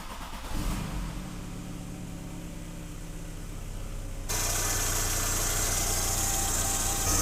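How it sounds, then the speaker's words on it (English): A VW Jetta or Golf MKIII engine cranks and catches, then settles into a steady, loud idle with a rise in level partway through, recorded up close after an oil cooler leak repair. "Okay, we'll start the car and test for leaks."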